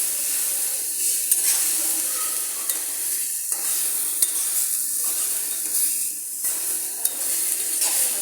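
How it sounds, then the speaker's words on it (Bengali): A vegetable fry stirred in a pan with the lid set aside, a steady close sizzle with soft repeated scrapes of the spatula. "আমি ঢাকনাটা গুছিয়ে একটু নাড়াচাড়া করে দিচ্ছি,"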